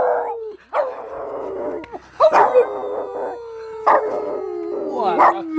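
A pet dog howls in long wavering notes at a cottage, broken by sharp barks and yips, loud and close, with people's voices mixing in between the calls.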